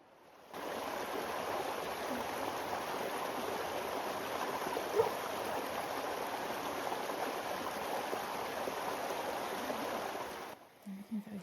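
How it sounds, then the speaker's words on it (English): A stream near Haworth babbles in a continuous, even rush of water for about ten seconds before cutting off, fairly close and steady with no voices. "There's something very calming about listening to babbling water."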